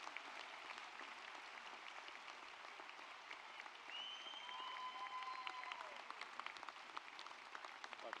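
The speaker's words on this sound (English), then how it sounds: "give these three remarkable women" Sustained audience applause at a university Latin Honors ceremony, even and fairly distant throughout, with a faint whistle-like tone gliding through the middle.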